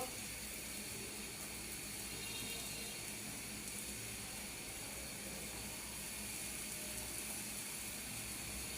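Water is poured into a pan of frying rui fish roe with lemon juice, giving a soft, continuous rushing and bubbling wash, faint and even throughout.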